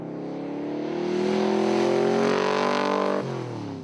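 A modified classic Corvette on a race track revs up and holds a loud, rising roar, then drops in pitch as it shifts or eases off, close by.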